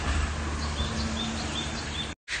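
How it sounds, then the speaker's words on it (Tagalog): Small birds chirp and tweet outdoors on the grounds of an art museum in Japan, their light calls faint and scattered over a dense, steady wash of background noise that cuts out abruptly near the end. "Naririnig niyo bang mga tunog ng ibon?"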